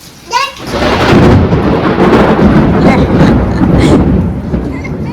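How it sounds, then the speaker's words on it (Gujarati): A loud, close rumble of thunder rolls on for several seconds after a brief sharp onset, deep and sustained before slowly easing. "ગાજે ને વીજળી બહુ થઈ"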